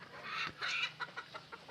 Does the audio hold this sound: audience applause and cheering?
no